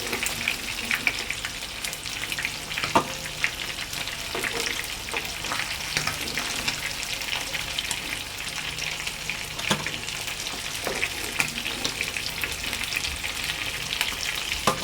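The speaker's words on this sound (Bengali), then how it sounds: "আমার মাছ ভাজা হয়ে গেছে" Fish sizzles and spatters steadily in hot cooking oil in a home kitchen, a loud continuous crackle with occasional sharper pops and faint stirring clinks throughout.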